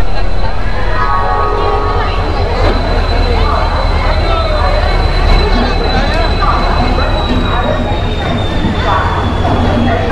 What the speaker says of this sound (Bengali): এই যে 128-37 হাওড়া পুরী এক্সপ্রেস দিয়েছে 23 নম্বর প্ল্যাটফর্মে